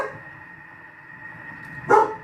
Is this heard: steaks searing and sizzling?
no